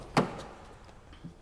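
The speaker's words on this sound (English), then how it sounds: "when you pull the door open, the glass drops quickly" A frameless door on a 2022 Mini Cooper SE Electric unlatches with a single sharp clack, followed by a faint whir and a soft thud as the glass lowers slightly.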